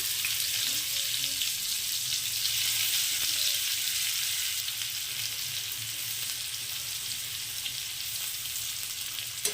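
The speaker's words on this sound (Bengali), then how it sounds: "ওই একই তাওয়ার মধ্যে আমি দিয়ে দিচ্ছি একটা পেঁয়াজ কুচি" Chopped onion fries in a little oil on a tawa used for an egg fry, producing a steady, dense sizzle with occasional faint stirring sounds underneath.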